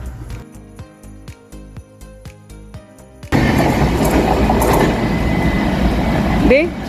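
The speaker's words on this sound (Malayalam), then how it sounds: "ഈ പോയതാണ് ഇലക്ട്രിക് ട്രെയിൻ." An electric train passes through a railway station, its loud, close rumble and rushing noise suddenly taking over after soft music and holding steady to the end.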